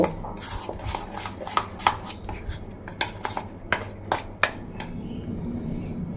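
Flour batter for a raw papaya vegetarian dish mixed by hand in a bowl, with irregular close clinks and scrapes of a utensil against the bowl over a low steady background and no talking.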